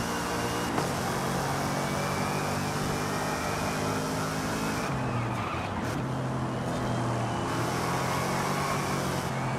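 Supercharged 5-liter V8 in Forza Horizon 5 roaring steadily and loud throughout, revs rising and falling through gear shifts with a brief tire squeal, no talking.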